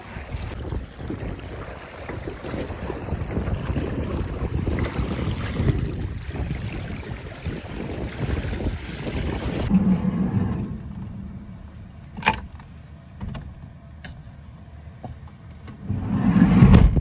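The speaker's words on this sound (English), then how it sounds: "All flooded and waves crashing in because of that wind." Strong wind roars and waves crash on a stormy shore, heard loud from beside a camper van for about ten seconds, then it drops to a muffled hush with a few knocks as if inside.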